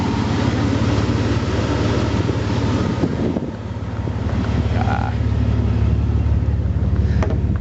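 A Dodge Dakota pickup drives along with a steady low engine and road rumble, mixed with wind buffeting on the microphone and a brief dip partway through.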